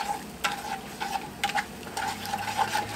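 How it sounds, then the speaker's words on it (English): A spoon stirs thickening gravy for a country breakfast in a pan, making a steady, close scraping and swishing with a soft sizzle underneath and repeated stroke accents. "And you just have to stir the lumps out till you get it all liking each other real good and blended."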